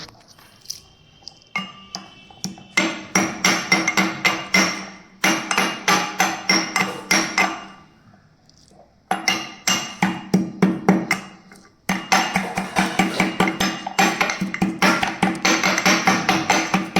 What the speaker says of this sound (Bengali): এলাচগুলোকে আমি কিন্তু গুঁড়ো করে নেব